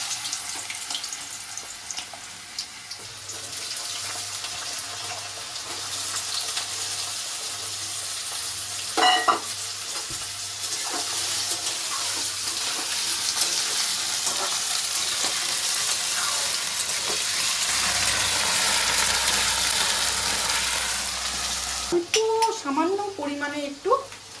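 Potatoes sizzle in hot oil after a black cumin tempering, a steady close-up frying hiss that builds over time, with occasional stirring clatter and a short voice near the end.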